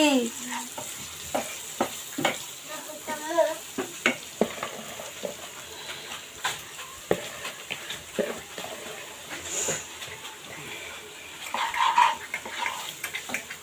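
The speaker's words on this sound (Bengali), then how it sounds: "এখন এই তেলে আমি এখন পেঁয়াজগুলো ভেজে নেব।" Onions frying in oil, a continuous sizzle broken by repeated scraping and stirring strokes from a utensil, uneven bursts of clatter across the whole stretch, close and moderately loud, with no talking.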